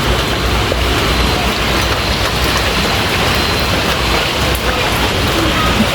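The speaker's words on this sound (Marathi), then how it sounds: "पाऊस खूपच चालू झाला" Heavy rain falls outside, a dense, steady hiss of drops that holds at an even loudness from start to finish, with no voices over it.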